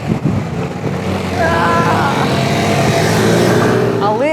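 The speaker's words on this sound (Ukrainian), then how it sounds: "Так, трафік мощний" Loud, steady engine rumble of busy city road traffic in the Netherlands passing nearby, a continuous roar, with a voice briefly audible near the end.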